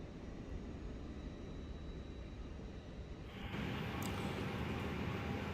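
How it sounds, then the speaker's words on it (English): Airliner auxiliary power unit jet engine in Microsoft Flight Simulator 2024 on PS5, a steady broadband whine and rumble that swells louder partway through as it spools up, continuous with no talk. "the APU is the little jet engine at the tail of the plane that gives us electricity"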